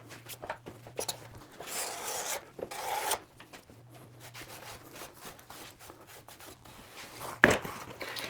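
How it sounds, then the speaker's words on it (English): Wet glue being wiped and scraped off a woodworking piece, with repeated rough rasping and rubbing strokes in uneven bursts, some longer scrubbing passes, and a sharp knock near the end. "clean up most of that glue while I can"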